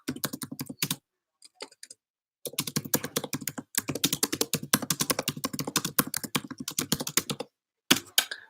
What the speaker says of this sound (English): sorry, typing away again